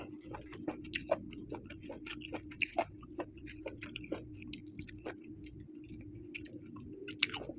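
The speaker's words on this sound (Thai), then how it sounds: "เคี้ยวกรุบกรุบมาก" Crunchy hed phao mushrooms from a spicy Thai mushroom soup are chewed close up, giving a string of sharp crisp bites and squishy crunches over a faint low hum.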